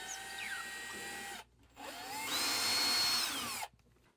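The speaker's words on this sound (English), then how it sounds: "we're going to make our marks and drill our holes" A power drill bores holes into drywall for anchors with a 3/16 bit, close and steady, in two bursts of whining motor separated by a short pause, with the pitch rising as the bit bites.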